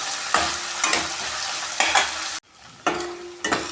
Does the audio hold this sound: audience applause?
no